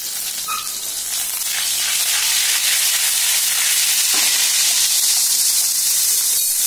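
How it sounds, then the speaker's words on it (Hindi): Cumin seeds crackling in hot chili oil in a pan, a loud continuous sizzle and hiss with faint scattered pops, growing slightly stronger as it goes on. "जीरा जैसे क्रैकल कर जाए"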